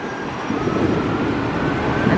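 A train rumbles along an elevated rail directly overhead near a mall on a windy, drizzly day, a loud continuous roar with a thin high squeal, no talk.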